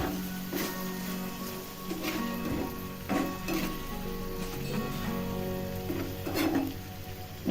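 Dried mackerel frying in oil, a steady close sizzle with soft crackles and occasional stirring clinks running through the whole stretch, with no talking.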